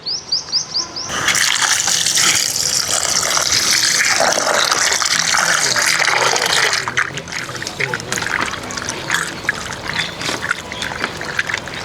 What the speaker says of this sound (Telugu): కైమా శుభ్రంగా కడుక్కొని కూర వండుకుందాం రండి